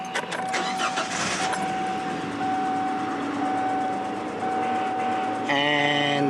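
A car engine cranks with a rapid, rough churning for a few seconds, drones steadily, then catches near the end and runs louder.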